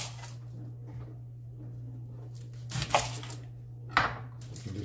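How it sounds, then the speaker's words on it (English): Knife chopping through the ends of an onion on a cutting board, two sharp crunchy cuts about a second apart over a steady low hum. "take the onion, you cut both ends"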